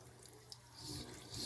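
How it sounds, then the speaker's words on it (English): Running tap water splashes over a Shark vacuum filter being rinsed, quiet at first and then a steadier, fuller gush of flowing water. "We're going to run it under some water."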